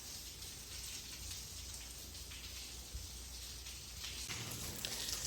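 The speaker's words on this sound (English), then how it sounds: "As y'all can see, it's raining right now." Steady outdoor rain patters down in a constant, even wash with no voices, gently growing a little heavier toward the end.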